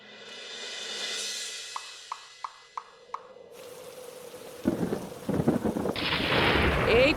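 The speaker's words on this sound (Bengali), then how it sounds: "এই তো ঝড় বৃষ্টি শুরু হয়ে গেল" A thunderstorm breaks in a cartoon scene: a long low rumble with a few sharp drips, then a burst of heavy rain and wind rising to a loud, dense wash, with no voices.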